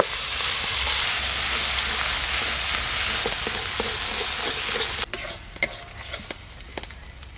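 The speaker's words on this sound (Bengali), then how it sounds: "এবার সিদ্ধ করে বেটে রাখা কড়াইশুটিটা দিয়ে দেবো" Boiled, ground green peas fry in a wok with white oil and asafoetida for kachori filling: a loud, steady sizzle that cuts off, then scattered spatula scrapes and clinks as the mixture is stirred.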